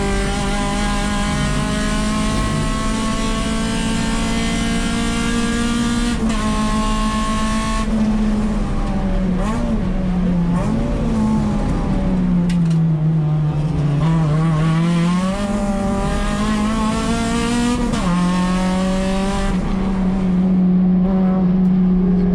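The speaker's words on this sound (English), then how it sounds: "You can hear the car's a bit low in the RPMs, not crazy low" A race car engine at Laguna Seca runs low in its rev range during a race, a loud close drone that rises and dips with throttle changes, the pitch swooping down through corners and climbing again.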